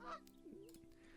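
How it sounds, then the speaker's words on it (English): Canada goose honk from the bird-themed video game Wingspan, a single nasal honk with a short follow-up call, clear and fairly close over a faint background, no talking. "Canada goose."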